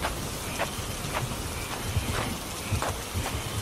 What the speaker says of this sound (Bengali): মুষলধারে বৃষ্টি পড়ছে আর মাঝে মাঝে বজ্রপাতের শব্দ